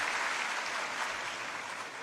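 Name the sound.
audience applauding to welcome guests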